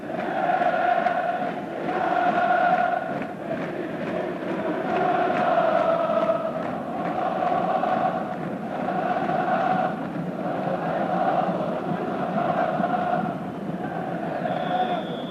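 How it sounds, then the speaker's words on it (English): Football crowd singing in unison at a stadium during Galatasaray versus Manchester United, a steady, loud chant with rhythmic swells that fills the whole stretch, with no break in the noise. "also the signal for the crowd to break into song again."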